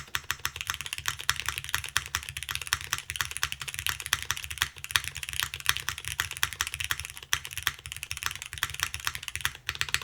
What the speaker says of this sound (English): Keyboard sounds good. It's definitely there. Definitely has a bit more of a bassier overall tone to it.